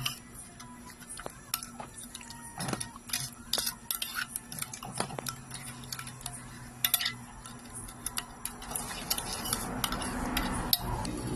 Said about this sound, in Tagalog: halo-haloin na natin. Siguraduhin kong mahalo lahat yung powder.